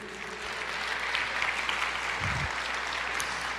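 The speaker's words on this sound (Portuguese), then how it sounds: "Você pode aplaudir o Senhor e dizer, eu creio." A church congregation applauding during a sermon, a steady rush of many hands clapping at even volume throughout, with a brief low thump partway through.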